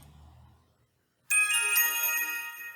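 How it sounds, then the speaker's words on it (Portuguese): A bright electronic notification bell chime rings from a web admin panel, a sudden loud ringing tone with sustained shimmering overtones after a moment of near silence. "Essa campainha ele mostra quando entra e com um intervalo de alguns segundos ela se repete."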